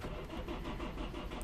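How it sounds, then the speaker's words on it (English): A Lexus IS 220d diesel engine cranking without starting, a steady rhythmic churning of the starter turning the engine over, close and continuous throughout with no catch. "So the 70, when I crank the engine,"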